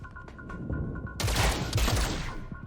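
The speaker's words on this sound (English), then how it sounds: "It's panic fire. They're on edge." Sustained burst of automatic gunfire in the XCOM: Chimera Squad video game, a dense, loud fusillade of rapid shots lasting over a second after a quieter lead-in.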